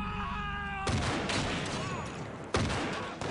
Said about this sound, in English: And a fight broke out, and bullets were going everywhere.